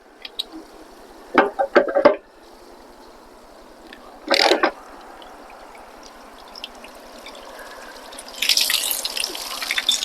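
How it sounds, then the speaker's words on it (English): Water drains from the hot water tank of a travel trailer. It splashes and trickles with a few short, loud gushes and a rising spatter at the end, heard over a quiet background. "You want to drain the hot water tank."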